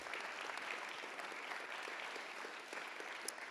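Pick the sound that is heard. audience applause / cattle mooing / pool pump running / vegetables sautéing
audience applause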